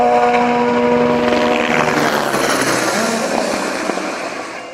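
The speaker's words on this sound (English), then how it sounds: "we might have the odd helicopter on the go as well" A loud, steady helicopter drone hangs overhead at a rally stage, with a rotor-like whir, then slowly fades as it moves away.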